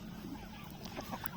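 A rooster clucks and mutters in short bursts close by, with steady low farmyard background noise.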